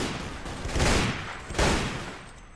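Battlefield gunfire in the Warband mod Red Wars, with two heavy bursts of massed volley fire roughly a second apart amid a continuous crackle of distant shots.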